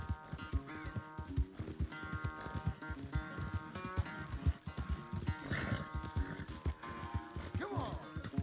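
Horse in Red Dead Redemption 2, hooves clip-clopping in a steady rhythm with snorts and a brief whinny, close by, mixed with other game sounds.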